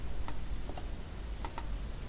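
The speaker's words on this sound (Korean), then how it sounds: "클릭합니다." Mouse clicks and keyboard keystrokes on a computer while entering a formula in a Hangul word processor, heard as two pairs of sharp, close clicks over a steady low background hum.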